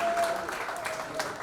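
An audience at a book launch applauds steadily and loudly, the clapping filling the whole short stretch without a break.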